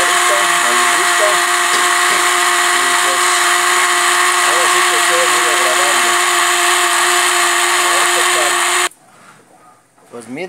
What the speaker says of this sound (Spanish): aquí la dejé moliendo aproximadamente 1 minuto 20 segundos